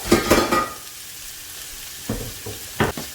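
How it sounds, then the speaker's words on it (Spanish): Chopped onion dropped into hot achiote oil for an Ecuadorian beef tripe stew, giving a short loud burst of sizzle and stirring at the start, a quieter stretch, then a few brief scraping clatters near the end. "Ya una vez está caliente el achote, pongo la cebolla primero"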